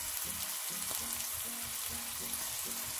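Onions fry with ginger garlic paste, giving a soft, steady sizzle with faint rhythmic pulses from stirring underneath.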